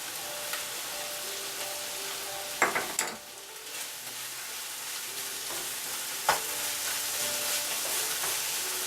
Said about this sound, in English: So add the green onions.